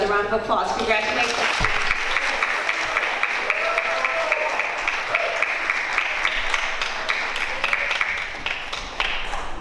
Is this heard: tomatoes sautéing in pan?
no